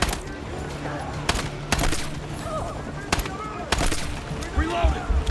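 Pistol gunfire in the Battlefield 6 video game: several sharp shots spaced irregularly over a noisy battle backdrop, mixed with distant firing, while someone talks throughout.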